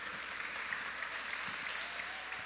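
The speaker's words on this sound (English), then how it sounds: "could we give the mayor another round of applause for his wonderful presentation?" Applause at a State of the City event for the mayor, heard as a faint, distant wash of many hands clapping in a large hall, smooth and continuous without distinct claps.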